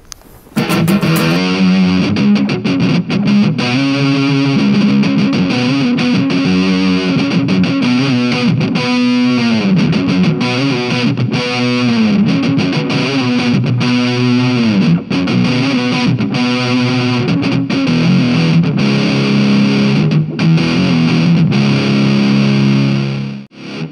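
A cheap distortion pedal drives an electric guitar, heavily distorted and continuous, thick and saturated, chords and riffs ringing loud and sustained throughout.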